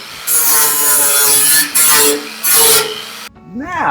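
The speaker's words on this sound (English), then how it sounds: "Now to grind this side." A flap disc grinds the metal exhaust exit flange on a GMC pickup at up to 13,300 RPM, three bursts of harsh rasping separated by brief pauses, then the tool spins down as a voice comes in.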